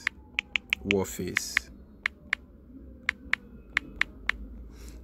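Keys on a computer keyboard are tapped in a sparse, uneven series of crisp clicks, about a dozen presses, with a person briefly talking partway through.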